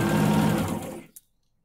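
Sewing machine stitching the seam of a beginner patchwork block, a steady close whir that runs for about a second and then stops abruptly, followed by a small click and silence.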